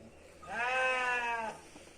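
A single sheep bleats once, loud and close, a sustained wavering call of about a second in a quiet village setting during milking.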